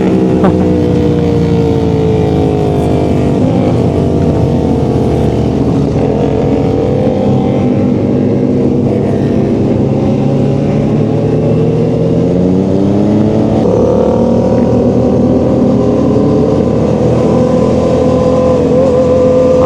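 Yamaha R7 sport motorcycle accelerating hard nearby on a road, its engine note rising and shifting through gears in a loud, continuous roar with other traffic noise around.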